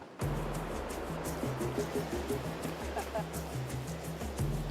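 Ocean waves break along the Indian Ocean coast south of Java, a steady close roar of surf with a low droning hum running underneath.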